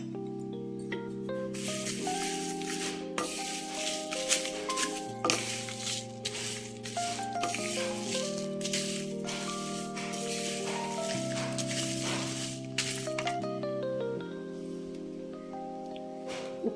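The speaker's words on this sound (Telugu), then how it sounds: "కొంచెం వేసుకుంటే ఇది కూడా చక్కగా వేగిపోతుంది" Garlic frying in a pan for protein-rich karam podi, a continuous soft sizzle with stirring scrapes, faint and steady beneath the background.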